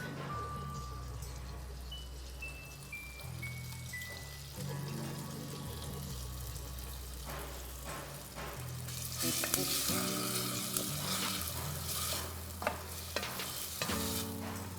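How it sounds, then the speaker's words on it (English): Chopped onions sizzle and crackle in hot chicken fat oil for a chicken biryani, a steady frying hiss with stirring scrapes and clatter that grows louder and busier partway through, with faint background tones and no talk. "We're gonna get our oil nice and hot and then add in our onions."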